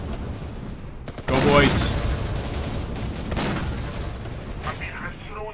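Battle gunfire from the Syrian Warfare video game near a desert trench: dense bursts of rifle and machine-gun fire with booming shots, loud and continuous, while someone talks briefly over it.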